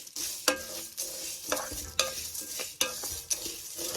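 Star anise and cinnamon sticks toast dry in a pan for masala powder, with a spoon scraping and stirring in a steady rhythm about every half second over a low, continuous sizzle.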